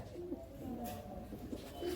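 Puhla pigeons coo softly in short, low, rounded calls, several separate coos spread across a brief, faint, quiet moment.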